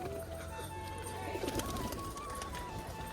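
Pigeons kept in a cage coo softly in low, drawn-out calls, faint and close over a quiet background, with a few light rustles.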